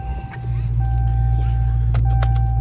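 A Dodge Hellcat Jailbreak engine fires up close by and settles into a loud, deep idle with a thin steady whine riding over it, while a voice talks over the start.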